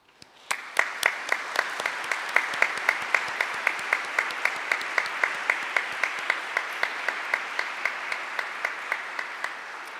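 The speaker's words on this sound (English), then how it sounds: "I would like to ask the alumni to please stand and take a" Audience applause at a college commencement for an alumni wind ensemble, heard as a steady, evenly spaced run of sharp claps over a softer wash of clapping, starting abruptly and carrying on for the whole stretch.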